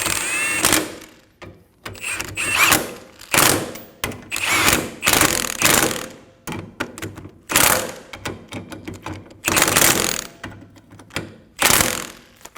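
A ratchet wrench clicks in repeated bursts as the ball joint bolt and two nuts are snugged down on the front lower control arm of a 2008–2015 Scion xB, close and loud, with brief pauses between strokes.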